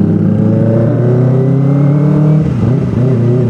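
A Kawasaki ZX-25R limited edition motorcycle engine holds a loud, steady high rev, then dips and climbs again near the end, close and alone with no talk.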